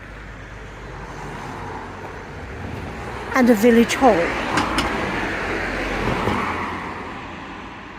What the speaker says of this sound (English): Sorry, it is a bit noisy with traffic, but that's to be expected because it is a busy A road.